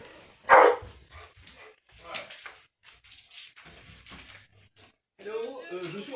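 A dog barks once loudly and close by at a door, followed by quieter sounds and people talking in a room.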